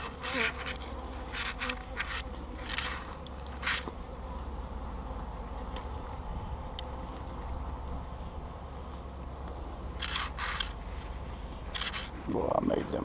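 Angry honeybees swarm and buzz during a spring beehive inspection, a dense, continuous droning hum close by with individual bees zipping past, while a person talks faintly over it.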